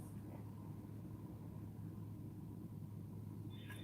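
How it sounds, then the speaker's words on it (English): Low steady engine rumble of an idling bus, continuous and moderately distant, with a constant hum and no clear talk over it. "See, my truck sounds like that bus."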